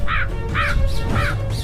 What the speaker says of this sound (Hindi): कौवे नहीं मानते और उसको चोंच भी मारने लगते हैं